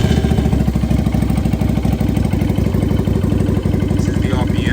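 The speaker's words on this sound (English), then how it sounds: "So let go of the clutch and you start the bike right here." A 2019 Lycan 250cc motorcycle engine idles close by with a loud, steady rapid pulsing and even putter throughout.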